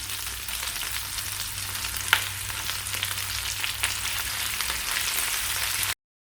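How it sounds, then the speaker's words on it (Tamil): Vallarai (brahmi) greens sauté in a hot pan, giving a steady, even sizzle that holds unbroken for several seconds, with one brief clink partway through. "இப்போ கீரை சேர்த்து வதக்கிடலாம்"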